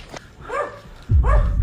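A dog gives two short, sharp barks about half a second apart, fairly close, with a low rumbling noise under the second bark.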